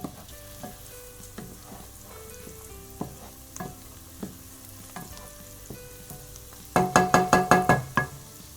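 Onions cooking down over medium-low heat in browned butter hiss softly and steadily, with occasional spoon taps on the pan, then a close burst of rapid stirring scrapes near the end.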